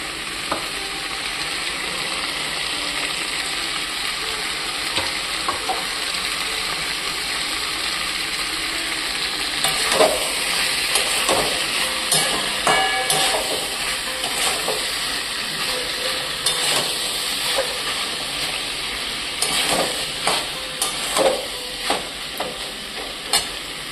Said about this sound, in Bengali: একটু কষতে থাকি, একটুখানি কষতে হবে।